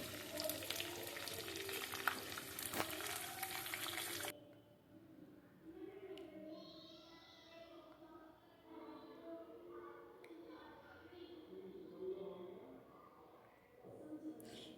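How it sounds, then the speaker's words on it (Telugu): Long-cut onion slices and three or four green chillies frying in oil in a pan, a loud broadband sizzle at first, then dropping to a softer steady crackle with occasional stirring under a talking voice. "ఒక పెద్ద ఉల్లిపాయని ఇలా పొడుగుగా కట్ చేసుకొని అందులో వేసి మూడు నాలుగు పచ్చిమిరకాయలను కూడా కట్ చేసి వేసుకొని వేయించాలి"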